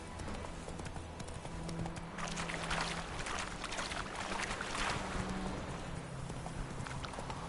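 A horse gallops in the video game The Witcher 3: Wild Hunt, its hooves drumming in a rapid, continuous clip-clop under rushing wind and soft ambient tones.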